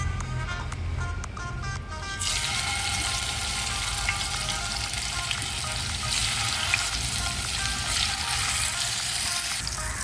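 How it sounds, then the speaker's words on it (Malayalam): Marinated fish frying in coconut oil in a hot pan, a sizzle that jumps suddenly louder and stays a dense, even hiss up close for the rest. "ചൂടായ പാനിലേക്ക് വെളിച്ചെണ്ണ ഒഴിച്ച് ഫിഷൊക്കെ ഫ്രൈ ചെയ്തെടുക്കാം."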